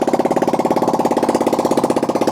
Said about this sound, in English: I forgot we didn't have the exhaust on, so now it sounds like bubbles.